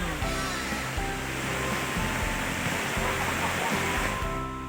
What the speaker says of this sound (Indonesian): Seperti inilah pesona air terjun Bayangsani.